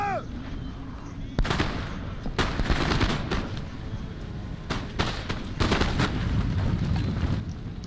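Musket volleys crackle across a Total War battle at Lodi, several sharp separate bursts of gunfire with loud booming shots spread through the scene over a low battlefield rumble.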